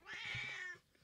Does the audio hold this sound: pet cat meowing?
yes